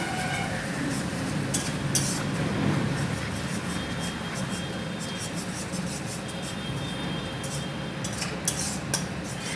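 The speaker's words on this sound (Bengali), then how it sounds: "এই যে ফেটিয়ে রাখা দইটা আমি দিয়ে দিলাম সমস্ত মশলা দিয়ে তার উপর এইভাবে আমি কিছুক্ষণ কষাতে থাকবো" Whisked curd with spices being stirred and sautéed in a pan, a close sizzle under repeated clinks and scrapes of a metal utensil against the pan, with no voices.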